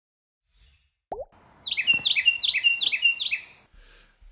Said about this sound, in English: The Carolina wren.